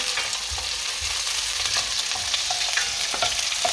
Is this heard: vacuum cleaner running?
no